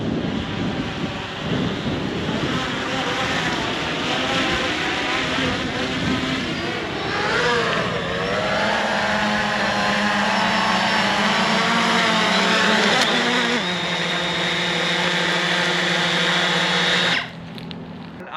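A Swan K1 PRO VTOL FPV wing flying and climbing overhead, its motors a loud steady whine with pitch sweeps and shifting tones, cutting off abruptly near the end.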